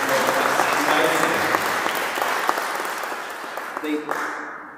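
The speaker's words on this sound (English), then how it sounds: "Let's give Sebastian a big round of applause." Church congregation at a Sunday service gives a big round of applause for a young man named Sebastian; loud, dense, sustained clapping fills the room throughout, tapering off at the very end.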